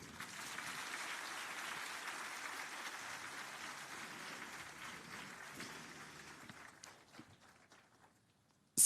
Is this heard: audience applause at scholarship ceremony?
yes